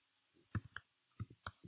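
Computer keyboard keys clicking as code is typed into a Jupyter notebook during data analysis work, a few quick, close taps in small clusters with quiet gaps between them.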